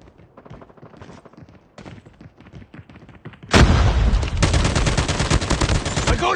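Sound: gunfire in the video game Call of Duty

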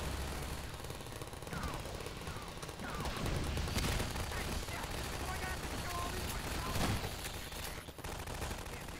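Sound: turrets firing in Half-Life 2 video game

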